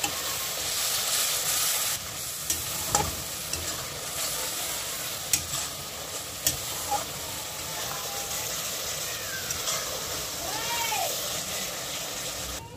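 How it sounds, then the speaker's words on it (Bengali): Capsicum chicken cooking in a wok, with a little water added to the pan, gives a steady moderate sizzle and bubbling, broken by a few sharp clinks of a stirring spoon. No one speaks. "দিয়ে দেওয়া হচ্ছে অল্প পরিমাণ জল, যাতে লেগে না যায় কড়াইতে।"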